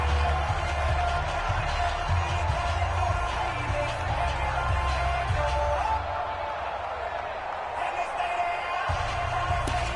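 A football video game crowd in a Seahawks versus Browns matchup cheers and roars steadily under a play-by-play commentator talking throughout, building toward a big third down.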